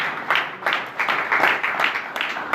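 A church congregation at a worship service claps and cheers in a dense, continuous wash of applause with bursts of voices rising and falling, moderately loud and sustained throughout.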